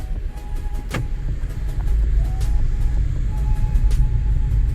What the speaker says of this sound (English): we'll drive with the windows closed and see how much sound is coming in.